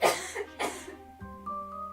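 Two quick, harsh coughs close by, followed by a faint tonal hum.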